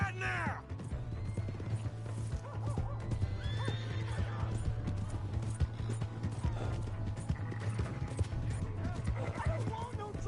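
A horse in the video game Red Dead Redemption 2 whinnies loudly and gallops with rapid clip-clop hoofbeats, mixed with shouting voices and game sound effects.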